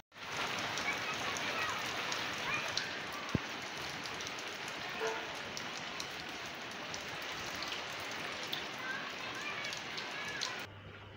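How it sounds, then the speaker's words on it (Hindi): Steady, dense rain pattering on a surface throughout, with a few louder drops and a brief sharp tap near the start. "अभी बस बारिश आ गई है, बारिश हो रही है।"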